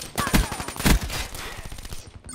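Rapid bursts of gunfire from a multiplayer shooter video game, two heavy close shots standing out over a steady crackle of further firing that fades out at the end.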